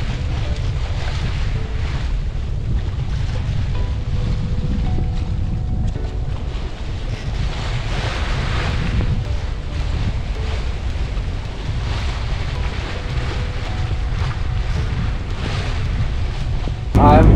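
A small sailboat moves across open sea with wind buffeting the microphone and waves washing against the hull, a steady loud roar that runs without a break and swells slightly at the end.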